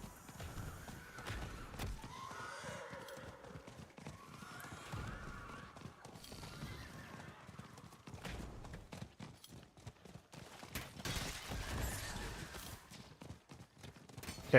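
A horse is ridden in the video game Diablo 4. Its hooves clop in a quick, steady rhythm throughout, with a brief whinny early on and light ambient noise behind.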